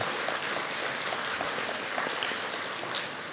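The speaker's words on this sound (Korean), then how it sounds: "우리 한번 응원의 박수 좀 했으면 좋겠는데요" Steady, dense applause from a church young-adults congregation at a Sunday service, even and sustained throughout with no voices over it.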